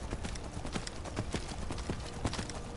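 Horse hooves clip-clop in the video game Skyrim, a quick, rhythmic run of muffled thuds in a steady gait, heard up close over a constant background wash.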